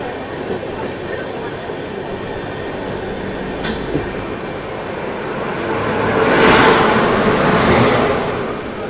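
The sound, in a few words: express train running on rails after overtaking another train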